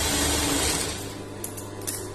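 A sewing machine stitching blouse fabric, its motor whirring steadily before easing off, followed by a few light mechanical clicks.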